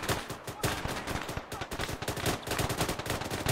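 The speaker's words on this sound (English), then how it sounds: "I've got gunfire happening on both sides." Dense gunfire from both sides in the military shooter Arma 3, with rapid bursts of rifle and machine-gun shots cracking nonstop and close throughout, alone without talk.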